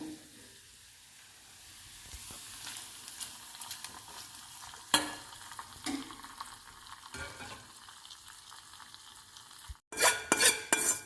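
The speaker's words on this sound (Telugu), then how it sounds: "ఈ తాలింపు పప్పులో వేద్దాము." Hot oil sizzles and crackles as tempering hits purslane dal, with occasional clinks of a utensil stirring against the pot.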